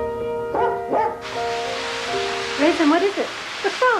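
A dog barks in short bursts at close range while a shower runs in the background with a steady hiss.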